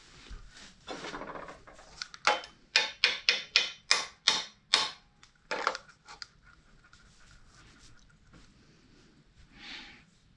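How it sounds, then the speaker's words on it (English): A hammer taps an exhaust flange on a twin turbo Ford F100 in a quick run of about a dozen sharp, close metallic knocks, then a few spaced taps before it goes quiet. "tap this flange down a little bit."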